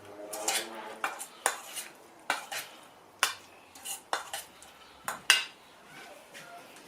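A utensil knocks and scrapes around a bowl while ingredients are mixed for a potato salad, with irregular sharp clinks and taps spaced about every half second, close and fairly quiet.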